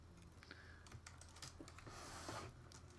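Typing on a computer keyboard while building in Project Spark: a steady run of close, quick key clicks with a few louder taps over a low background hum.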